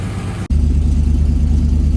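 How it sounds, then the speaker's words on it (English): A Triumph Stag car engine runs steadily up close, a low rumbling hum with a brief dip at the start, no voices. "we've got the engine going."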